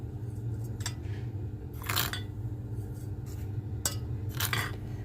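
Spoonfuls of sugar go one after another into a milky fruit dessert. Several short grainy pours sound alongside light spoon clinks against the bowl, close and fairly quiet.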